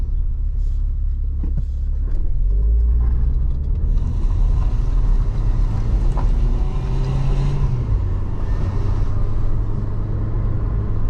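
A Renault Clio 4 RS Trophy drives on a rough road. Its engine and exhaust make a loud, steady low rumble heard from inside the well-insulated cabin, with tire and road noise throughout and a slight rise in pitch as it accelerates.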